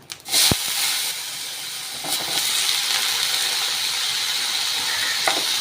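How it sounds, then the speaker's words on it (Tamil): Potato and eggplant pieces frying in hot oil in a pan, a steady close hiss and sizzle with a sharp clatter at the start and a few light scrapes, no talking. "இந்த உருளைக்கிழங்கும் கத்திரிக்காவும் இந்த எண்ணெயிலேயே வதக்கி விட்டுக்கோங்க"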